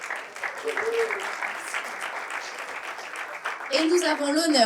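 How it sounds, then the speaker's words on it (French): Audience applause at a French audiovisual conference: sustained clapping from a crowd lasting several seconds, with a presenter's voice speaking over it and cheering rising toward the end. "Steven Lemaître, Mathieu Cassino, que vous pouvez applaudir bien fort."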